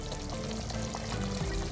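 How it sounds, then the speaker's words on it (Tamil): Coconut milk poured into a pot of boiling curry for a shark curry, a soft continuous pouring and bubbling hiss, faint and steady, heard alone. "அதோட சேர்த்து நான் கொஞ்சம் தேங்காய் பால் விடுறேன் இதில்."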